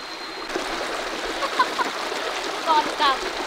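A clear, fast-running mountain stream in forest rushes with a steady broadband wash, joined by a few faint, high bird chirps in the background.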